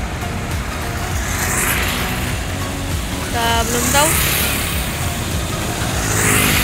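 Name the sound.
bus at night departure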